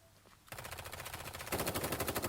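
Automatic gunfire from The Day Before, a video game, a rapid rattling burst that starts abruptly and grows louder and denser partway through, loud and sustained with no talking.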